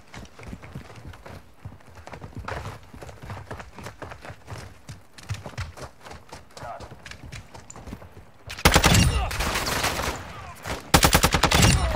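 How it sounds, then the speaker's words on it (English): An unsilenced Hemlock rifle in Call of Duty Modern Warfare II DMZ fires loud, sharp bursts late on, after a quieter stretch of footsteps and light movement, with a second burst following a brief gap. "I just realized that this gun is not silenced"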